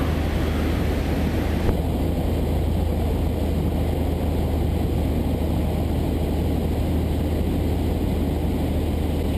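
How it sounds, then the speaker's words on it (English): A light aircraft engine throttled back for a simulated engine failure on approach to runway 22: a steady, continuous low drone with broadband cockpit noise, its upper tone dropping slightly early on and holding level throughout, with no talk. "here comes your engine failure for runway 22"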